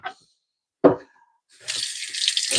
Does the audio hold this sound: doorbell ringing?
no